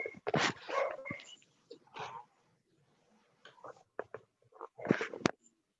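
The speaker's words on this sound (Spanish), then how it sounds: "Por ahí me está haciendo la competencia un perro" A dog barks repeatedly in sharp, irregular bursts close by, with some yips and whimpers between the barks and brief quiet gaps.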